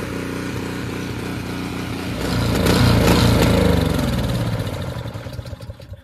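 A Craftsman lawn tractor converted into a 2X6 military-style UTV runs close by, its engine idling with a steady low putter before revving louder and then settling back down.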